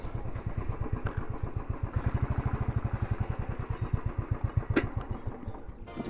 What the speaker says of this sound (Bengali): এখানে আমাদের বাইকটা পার্কিং করব